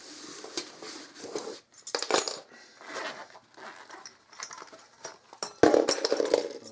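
Metal pieces of a Trangia stove cook kit clinking and knocking together as they are fitted and stacked, a few close, irregular clatters with brief pauses between, no talking.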